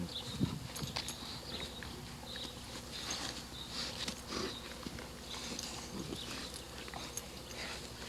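Puppies chewing and play-biting each other, heard as busy close-up scuffling, soft clicks and mouthy noises with small yips throughout, steady and moderately loud.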